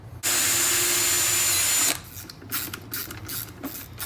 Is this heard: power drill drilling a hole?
yes